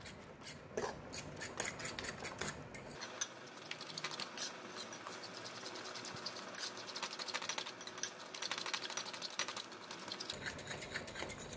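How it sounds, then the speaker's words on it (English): Eggs and parmesan cheese being mixed in a mixing bowl for fettuccine carbonara, a steady run of close, quick clicking and scraping strokes against the bowl with no talk. "Add in all parmesan cheese and mix until well combined."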